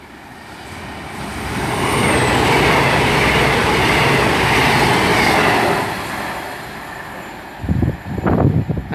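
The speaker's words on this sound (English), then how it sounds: "passing through now is a cross-country service to Bournemouth from Manchester Piccadilly" A Cross Country class 221 train to Bournemouth from Manchester Piccadilly rushes through Beaulieu Road station without stopping, a rising and fading rumble with wheel clatter, then a few rhythmic thumps at the end.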